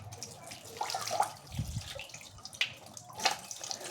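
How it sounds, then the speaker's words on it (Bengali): Running water from a tap splashes over a bhola fish being washed, with irregular splashes and drips at moderate, fairly faint level. "দেখো, এই মাছটা ভালো করে জল দিয়ে ধুয়ে নিচ্ছি।"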